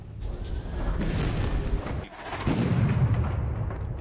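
Mortar rounds explode in the combat game Six Days in Fallujah, with two heavy booms about a second apart, a brief dip, then a deep rumbling blast that rolls on and lingers.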